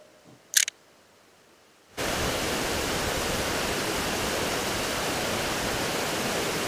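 Water pours down the stages of Krang Suri waterfall in Meghalaya, a dense continuous roar that starts abruptly after a short quiet moment with a brief click, then holds steady and loud.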